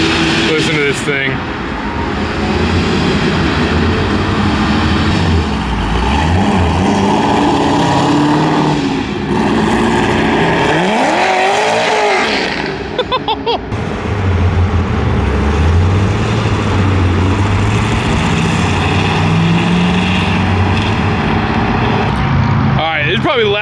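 A modified muscle car engine rumbles loudly at a car show, with deep throaty idle and rising revs that swell and fall over the whole stretch, crowd chatter faint beneath.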